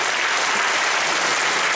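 Audience at a jazz concert applauding, a dense, steady wash of many hands clapping, loud and close throughout with no voices.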